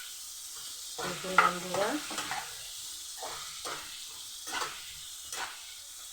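Green chillies dropped into hot oil in a pan with fish heads, setting off a close, crackling sizzle with bursts of spatter and stirring clatter, while a voice speaks briefly over it.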